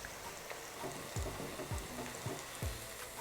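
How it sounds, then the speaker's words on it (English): A chicken sandwich fillet fries a second time in hot oil, giving a short burst of close bubbling and sizzling with a few sharp pops. "just going to give that a second fry now that the oil is hot"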